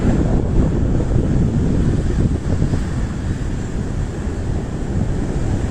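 Stormy Sicilian sea crashing onto the shore and over the road, with strong gusting wind roaring across the microphone in a dense, continuous, loud rumble.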